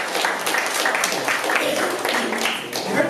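Applause from a workshop audience at a local foods community event, a steady wash of clapping filling the short stretch at moderate loudness without pause.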